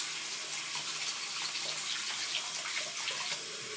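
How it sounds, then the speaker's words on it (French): A tap runs steadily, filling a basin with hot water, a constant close rush of water with no talk. "Ensuite, vous remplissez d'eau chaude."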